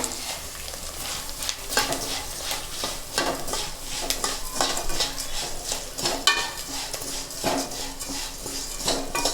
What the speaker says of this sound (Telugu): ఇప్పుడు సేమియా కూడా వేసి వేగించుకుందాం దాంట్లోనే